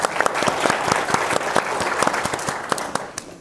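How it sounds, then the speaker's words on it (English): An audience at a public health forum applauds steadily for several seconds, a dense patter of many hands clapping that fades toward the end, with no talking over it. "You can give her a round of applause."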